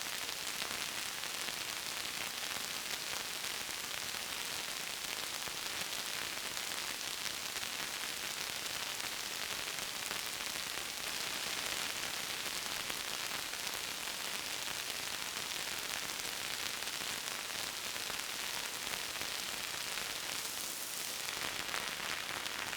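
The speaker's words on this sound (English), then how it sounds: "Let's add a bit of detail to the rain in the form of two additional layers of random water droplets." Synthesized rain patched on a modular synthesizer, a dense steady hiss of soft wash like rainfall, continuous and even throughout with no distinct drops standing out.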